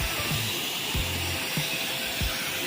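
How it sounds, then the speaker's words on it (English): A pressure washer sprays water to rinse thick dirt and debris off a new parking lot, producing a loud, steady broadband hiss with a few low thumps underneath. "We're just kind of meeting in the middle to rinse all this debris down."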